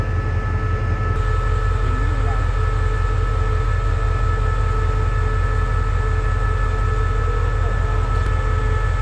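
A State Railway of Thailand express train passing at night: a continuous heavy rail rumble with a rhythmic low clatter of wheels and a sustained tonal locomotive hum, loud and steady throughout.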